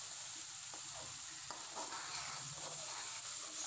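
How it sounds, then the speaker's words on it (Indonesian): Sambal balado cooks in a pan with a steady, bright sizzle and frying crackle, broken by a few soft stirring scrapes. It is close and even, with no voices. "ini kita matangin dulu sambal baladonya"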